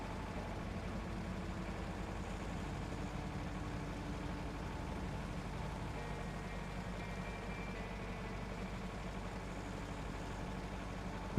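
A tractor engine idles in the truck-driving game SnowRunner, giving a steady, low, rumbling drone that holds unchanged and fairly quiet throughout, with no talking over it.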